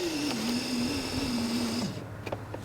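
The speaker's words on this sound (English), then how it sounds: "So I will go ahead and move the window all the way up." Window on a Mercedes W124 rising on a newly installed regulator, a close, steady motor whine that sinks in pitch as the glass climbs, then cuts off, followed by a few faint clicks.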